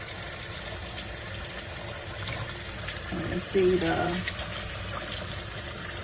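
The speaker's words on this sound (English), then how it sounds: "Just gonna go ahead and add some more water to here." Water is poured onto produce in a kitchen for washing, a brief splashing pour midway over a low background rumble, with a voice speaking briefly.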